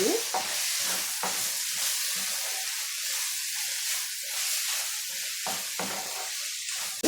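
Red amaranth leaves (thotakura) fry in a pan and are stirred, with a steady close sizzle and hiss punctuated by repeated scraping strokes of the spatula.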